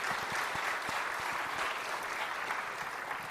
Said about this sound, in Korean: 우리 하리스 형제를 우리가 뜨겁게 박수로 환영하겠습니다.